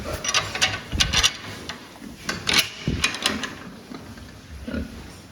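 Pig, an 88 kg fattening pig, grunting and oinking nearby on a livestock scale, mixed with clattering metal knocks and bangs.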